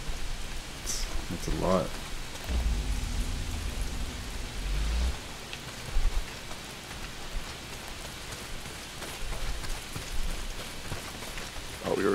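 Heavy downpour in the Days Gone video game, a dense steady hiss of rain filling the whole stretch, with a brief low rumble early on and a voice speaking briefly over it.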